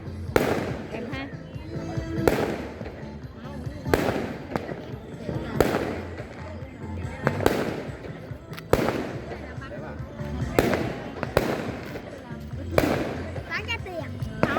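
Fireworks and firecrackers set off on New Year's Eve in a Vietnamese countryside village, repeated sharp bursts and crackling volleys recurring every couple of seconds, loud and close, with voices talking underneath.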